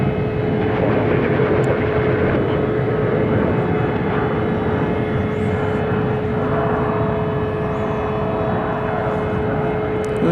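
A Fiji Airways airliner takes off from DFW Airport at night, its engines producing a loud, steady roar that holds strong and unbroken throughout, with no voices.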